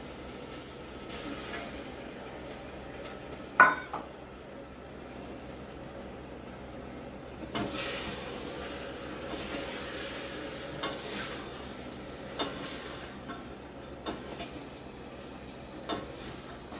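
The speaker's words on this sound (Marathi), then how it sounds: "छानपैकी तेलावर आपण हे मटण परततोय" Mutton is stir-fried in oil with cooked onions for a Mumbai Saraswat style mutton curry, giving a faint, steady sizzle broken by occasional scrapes and knocks of stirring.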